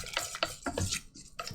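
A spoon stirs a lumpy, egg-free mixture in a pot, giving soft irregular scrapes and knocks in short bursts, close and fairly quiet.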